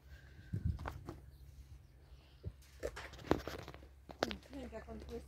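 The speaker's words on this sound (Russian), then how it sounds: "Тань, как он хрустит, Леон." A white lion eating raw chicken, producing scattered wet crunches and bone cracks at moderate distance, with quiet voices talking around the chewing.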